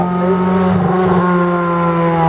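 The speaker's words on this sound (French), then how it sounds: "Michael Prudent qui va s'élancer avec une des nombreuses Renault Clio" A Renault Clio race car in class A3 at the Dunières hill climb gives a loud, steady engine roar with strong harmonic tones. It holds a sustained rev throughout, close by and alone, with no talk.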